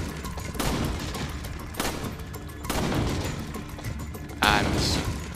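Gunfire at the Resident Evil 4 shooting gallery in a video game, several sharp, loud shots spaced irregularly, each followed by a booming decay, with a talking voice faintly underneath.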